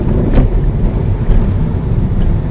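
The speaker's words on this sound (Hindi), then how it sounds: "आपको रोड पे काफी ट्रैफिक मिलेगा" Busy Mumbai road traffic during the 2020 lockdown forms a close, loud rumble of passing vehicles and engines, steady and continuous without speech.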